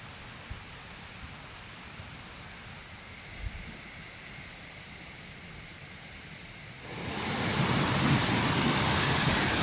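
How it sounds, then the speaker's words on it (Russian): A constant broadband roar of the rushing Akusikan mountain river, steady and close, growing noticeably louder partway through as if moving nearer the stream. "Речка внизу шумит."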